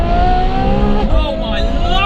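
A Ferrari F12 Berlinetta fitted with an IP exhaust roars past loudly, its engine note sweeping and shifting pitch as it accelerates, with a voice audible over the sound.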